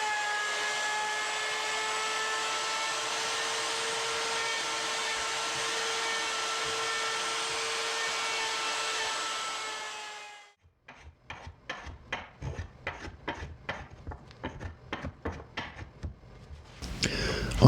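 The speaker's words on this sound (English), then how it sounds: "made something for my hand router to follow, and well, slowly chip away at it until it's the thickness in which I require" A hand router mills a wooden guitar body blank for a carved-top guitar, a loud steady whine for about ten seconds, then stopping, followed by a run of rapid scraping and rasping strokes on the wood.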